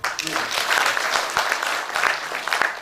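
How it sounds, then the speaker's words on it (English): Audience applause for a university team honoured with a continental award in animal sciences, a dense, steady burst of clapping filling the space for a few seconds. "Give them a clap"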